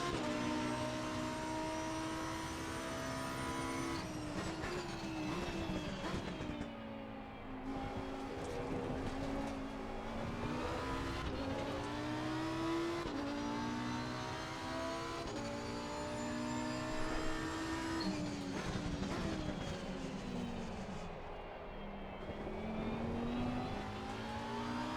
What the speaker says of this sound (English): I'm even power drifting now